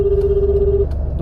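Unanswered phone call: a steady electronic ringing tone holds for most of a second, then stops, over a constant low hum of background noise.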